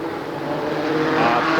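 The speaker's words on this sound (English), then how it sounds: "Coming down here in the front straightaway, Russ Storr, the leader, the 56 car" NEMA midget race cars roar along the front straightaway at Oswego Speedway, a loud engine sound that rises as the cars pass close by, with an announcer talking over it.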